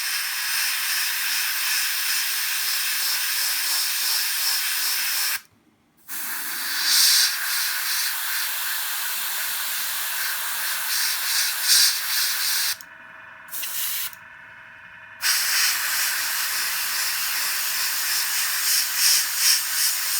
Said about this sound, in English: we'll try and blend the edges with the airbrush